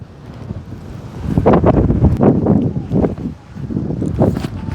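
Strong wind gusts roar and buffet close against the microphone in uneven surges, with no other sound and no talk.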